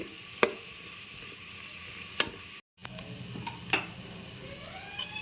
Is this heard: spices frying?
yes